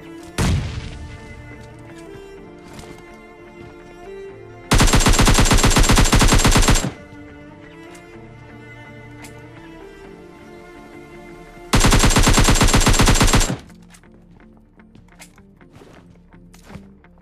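Automatic gunfire in the battle royale game PUBG Lite, loud rapid bursts of shots with two long sustained full-volume stretches of dense firing, over a continuous game soundscape of footsteps and impacts, no talk.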